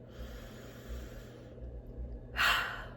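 A person draws one deep, audible breath in, a soft breathy rush that swells near the end, close to the mic and alone over faint room hum.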